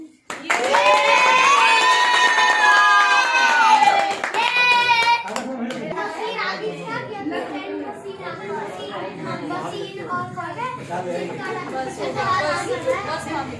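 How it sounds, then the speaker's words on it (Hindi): Children clapping at a family gathering, uneven hand claps under lively chatter and children's voices, following a loud stretch of singing or shouting at the start. "बच्चों ताली बजाओ।"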